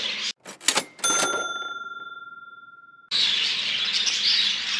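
Show jumbo budgerigar chirps and quick rattling clicks up close, followed by a high electronic tone and then a steady hiss of background noise.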